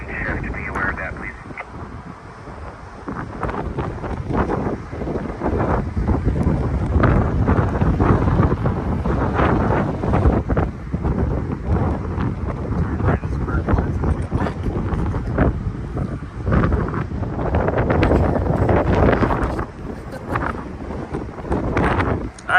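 A sand storm overtaking a hospital area, a constant roaring wind buffeting the microphone with gusty surges and rumble, loud and unbroken throughout.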